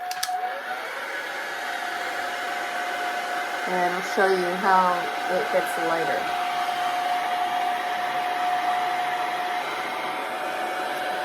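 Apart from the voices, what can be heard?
hairdryer drying watercolor paint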